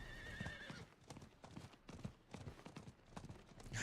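Video game horse trotting with a steady clip-clop of hooves and a whinny, fairly faint and close, with no talking over it.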